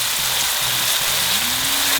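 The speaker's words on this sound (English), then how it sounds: "Now let the masala and tomato fry together on a medium flame till the tomatoes are nice and mushy." Masala and tomatoes for parwal sabzi fry together in a pan over a medium flame, making a dense, steady sizzle that crackles continuously and close up, with nothing else heard.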